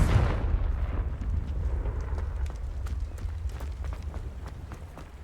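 Confringo fire spell in Hogwarts Legacy bursting into a deep, booming explosion that rolls off into a rumbling tail scattered with crackling debris, loud at first and slowly fading.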